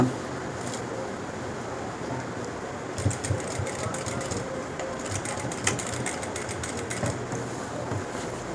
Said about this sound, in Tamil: நெக்கு தைக்கிறேன்